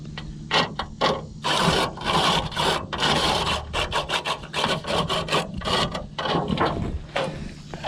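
A saw cuts brick for chimney reflashing, giving close, loud, continuous rasping strokes in an uneven rhythm, with no talk.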